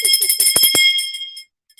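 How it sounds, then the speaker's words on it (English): An obnoxious bell rings loudly with a bright, clanging metallic tone and a run of quick strikes, then cuts off, leaving near silence with a faint tap at the end. "I know this bell is so obnoxious."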